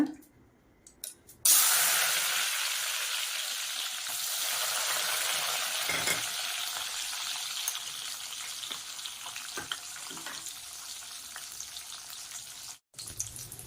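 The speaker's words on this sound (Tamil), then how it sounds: "முந்திரி வறுத்துச்சுங்க." Washed cashews fry in a pan for a vermicelli sweet, giving a loud, continuous sizzle that starts abruptly and carries on steadily with a few small stirring knocks.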